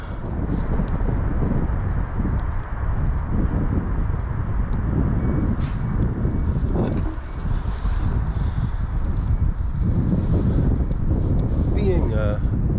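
Steady wind buffets the microphone with a low rumbling roar, continuous and close throughout, broken by a few faint rustles.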